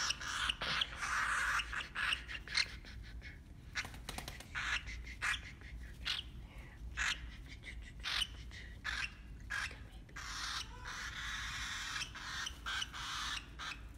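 Rapid, high-pitched bird squeaks and chirps come in repeated bursts throughout, close by, over a low steady background hum.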